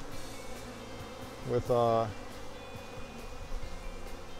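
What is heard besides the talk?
honey bees buzzing around a hive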